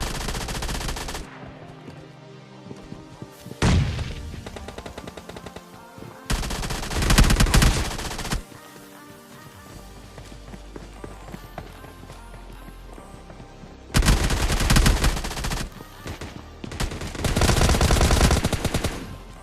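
Rapid bursts of submachine-gun fire from PUBG Mobile Lite gameplay, loud dense volleys of several seconds each separated by quieter stretches of in-game ambience.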